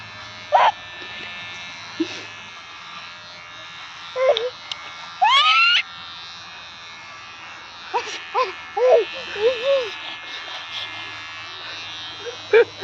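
Electric hair trimmer buzzing during a young child's haircut, heard in short intermittent bursts among voices and a child's sounds, with people talking and laughing nearby.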